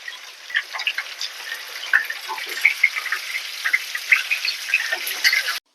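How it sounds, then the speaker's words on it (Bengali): Minced chicken for a chicken korma fries in hot oil, giving a close, continuous crackling sizzle with scattered pops that stops abruptly at the end. "তেলের উপরে এই মিউনিট করা গোশগুলাকে এখন হালকা ফ্রাই করে নিই।"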